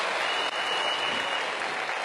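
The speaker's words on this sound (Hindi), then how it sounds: "सबसे पहले वेस्टेज मार्केटिंग के लिए जबरदस्त ताली हो जाए।" Applause from an audience at a Vestige award function, a dense steady wash of clapping filling the whole moment with no voices on top.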